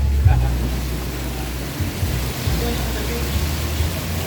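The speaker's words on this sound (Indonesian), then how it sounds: "Hujan lah, Bang." Steady rain pours down around a bus, a dense continuous hiss that lasts throughout with low rumbling underneath.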